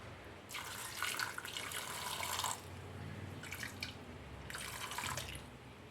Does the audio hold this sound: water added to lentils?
yes